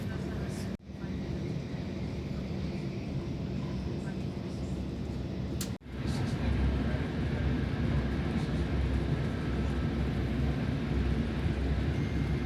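A fast train passes in South Africa with a continuous broadband roar that stays steady. It swells slightly louder in the second half and is interrupted by two brief dropouts.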